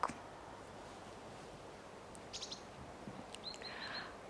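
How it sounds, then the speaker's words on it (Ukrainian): Faint bird chirps and short tweets come from a distance over a quiet outdoor hiss, a few scattered calls near the end. "пташки співають це так"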